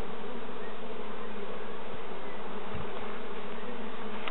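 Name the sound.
honey bees buzzing at hive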